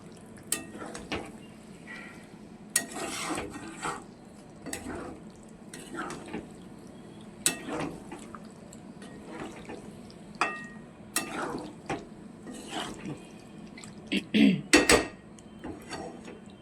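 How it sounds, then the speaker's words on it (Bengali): Vegetables stir-fried in spice masala in a pan, with intermittent scraping and clinking of a spatula against the pan and soft background noise. "সবজিগুলোকে দিয়ে আরও বেশ খানিকক্ষণ কষিয়ে নেব, যাতে সবজিগুলোও সিদ্ধ হয়ে যাবে"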